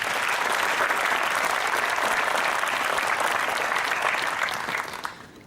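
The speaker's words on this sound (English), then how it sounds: "Please give her a round of applause." A crowd at an alumni spring reunion claps steadily and loudly for several seconds before the applause begins to fade near the end.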